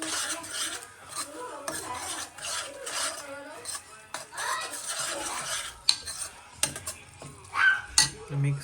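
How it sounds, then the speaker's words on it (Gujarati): Dark soy sauce being stirred into a Manchurian gravy mixture in a pot, with a steady scraping, rasping spoon motion and faint clinks of utensils close by, ending in a few sharper knocks. "આ બધું મિક્સ કરી લઈએ"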